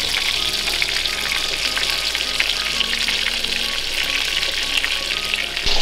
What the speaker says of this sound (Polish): Smażymy z jednej i z drugiej strony po około 6-7 minut.